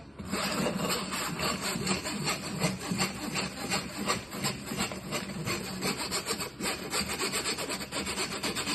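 Sponge cake batter being mixed by hand, a steady, close scraping and rubbing that repeats in a quick rhythm for the whole stretch without a pause.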